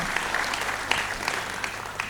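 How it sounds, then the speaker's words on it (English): Audience applause at an expert panel on engineering education, a steady wash of clapping from a seated crowd, fairly distant and even, with a few sharper individual claps standing out. "Let's give a big round of applause, everybody."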